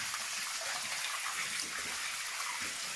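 Water pours steadily down the slopes of a manganese mine after a small dam is breached, a continuous broadband rushing roar holding even from start to finish, with no voices.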